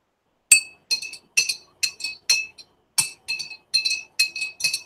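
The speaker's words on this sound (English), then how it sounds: "I'm stirring it all real good. And this is why I do this in the jar" Lotion bar mixture stirred in a glass jar, giving a run of about a dozen bright, regular clinks against the glass, close and clear with nothing else heard.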